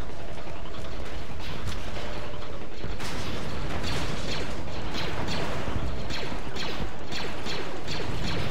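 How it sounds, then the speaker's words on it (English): Blaster gunfire in a Star Wars Battlefront 2 mod set on Geonosis, dense rapid bursts of shots with mechanical clatter, loud and continuous, mixed with other battle noise. "Them new gun sounds are so satisfying."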